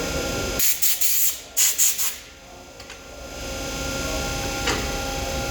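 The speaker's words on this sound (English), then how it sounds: "So finally, I'll just blow it out with some compressed air." Compressed air blasts out an aluminum part in several short, loud, hissing bursts close by, followed by quieter background noise and one faint later puff.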